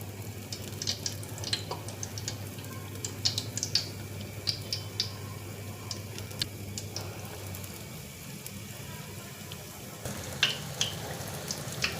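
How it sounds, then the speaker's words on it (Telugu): Sweet jaggery-filled boorelu fry in hot oil over a low gas flame, giving a soft, continuous sizzle scattered with small crackles and pops. A low hum runs under the first part, and no one speaks. "ఈ గ్యాస్ ఫ్లేమ్ అనేది లోలో పెట్టుకుని మనం ఫ్రై చేసుకోవాలి"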